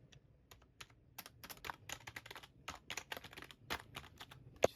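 A ZU 777 RGB semi-mechanical keyboard is typed on in a quick, irregular run of crisp key clicks that speed up partway through. The clicks are close and fairly soft, and no one speaks.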